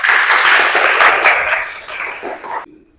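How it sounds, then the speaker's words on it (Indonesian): Junior high school students in a classroom clapping for a classmate after a discussion, a short burst of dense applause that tapers off and stops within about three seconds. "Tepuk tangan untuk teman kita."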